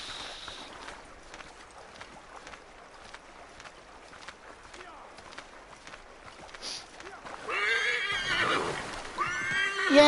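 Horse neighing in the Assassin's Creed 3 video game near cold water, a faint neigh and soft hoof sounds under quiet game ambience, with a louder whinny bursting in near the end.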